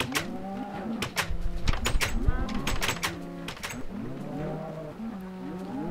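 Minecraft cows moo repeatedly, low, drawn-out bovine calls overlapping one another at close range throughout, with a steady in-game background hum.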